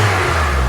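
Honda Element engine running with the check engine light on, a loud, steady low hum heard close up and alone for a brief moment.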